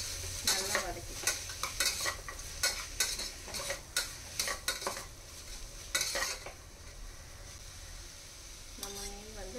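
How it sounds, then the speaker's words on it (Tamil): Curry leaves sautéing in a pan for a breakfast dish, with steady sizzling and frying under repeated clinks and scrapes of a spoon stirring against the pan, close and moderately loud. "கருவேப்பிலை எல்லாத்தையுமே சேர்த்து நல்லா வதக்கிக்கலாம்."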